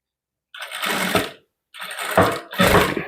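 A sewing machine stitches piping around a curved edge in short runs, three bursts of whirring motor and needle clatter separated by brief pauses, close and fairly loud with no talking.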